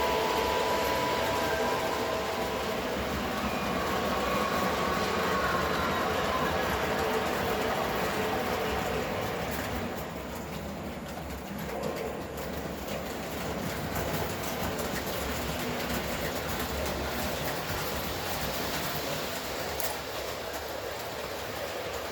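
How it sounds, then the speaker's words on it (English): An Illinois Central F3 model train runs along a toy track with a continuous rolling rumble and faint clickety-clack, steady and close throughout, with no talking. "That's the Illinois Central F3 coming our way and will appear in the picture soon."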